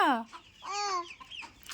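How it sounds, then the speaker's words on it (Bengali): A hen clucks in short bursts, fairly close, with brief squawky calls and no talking. "মুরগি দেখো কক কক কক করছে, ডিম পারবে।"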